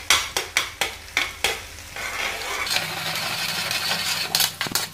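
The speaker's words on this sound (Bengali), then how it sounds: "তারপর রসুন কুচিটা দিচ্ছি, রসুন কুচি।" Chopped garlic frying in oil for a rohu fish curry, opening with a series of sharp spatula scrapes and stirs against the pan before settling into a continuous close sizzle, with a few more clatters at the end.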